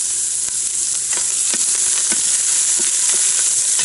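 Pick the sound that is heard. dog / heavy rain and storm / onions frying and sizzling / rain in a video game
onions frying and sizzling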